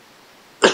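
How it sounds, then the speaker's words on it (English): A single sharp cough lands close and loud on the microphone at the very end, after a quiet stretch of near-silence. "I keep on coughing, like, right into my mic."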